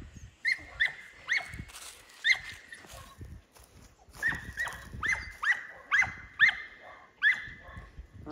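Livestock guardian puppies bark in short, sharp bursts among sheep, a string of repeated yips and barks spread across the clip at close to moderate distance, with a faint whimper between them.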